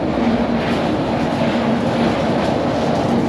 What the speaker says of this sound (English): Sounds like the bin is not sucking out the middle hole anymore